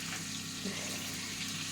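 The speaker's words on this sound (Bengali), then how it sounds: "তো দেখো পরপর চিকেন পকোড়াগুলো ভাজছি" Chicken pakoras deep-fry in hot oil, giving a steady, close, even sizzle and bubbling hiss throughout, with no voices.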